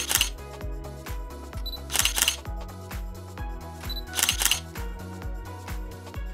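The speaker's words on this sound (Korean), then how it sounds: "우리 아버님들도 사진 한 장씩 찰칵." Camera shutter clicks as elderly men snap photos at a scenic mountain pond viewpoint, several sharp bursts repeating over steady background music.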